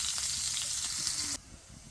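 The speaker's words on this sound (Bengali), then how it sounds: "এখন পেঁয়াজ কাঁচামরিচটা একটু সুন্দর করে ভাজতে হবে" Loud, close sizzle of onion and green chili frying in oil that suddenly drops to a much quieter hiss near the end.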